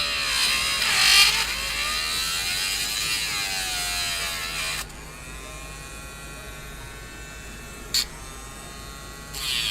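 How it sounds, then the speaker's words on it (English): A Dremel rotary tool whines at high speed while grinding out the plastic fan of an SD40-2 model locomotive, its pitch sagging and rising under load, then easing to a lower hum with a brief sharp spike near the end. "I'm going to use my Dremel here to kind of eat out some of this"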